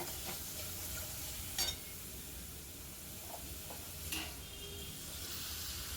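Spices with sugar and salt stir-frying in a pan for mutton curry: a faint, steady hiss of frying with a couple of brief scraping stirs, quiet and close, no voices.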